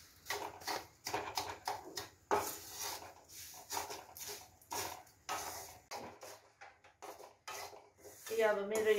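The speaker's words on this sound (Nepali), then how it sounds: "अब यसलाई म बिस्तारो भुट्दैछु," A spoon scrapes and clinks against a pan as food is stirred while slowly frying in homemade ghee, in quick uneven bursts of metallic rubbing, fairly quiet and close.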